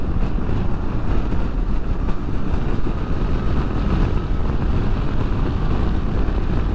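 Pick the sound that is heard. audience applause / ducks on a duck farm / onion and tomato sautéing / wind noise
wind noise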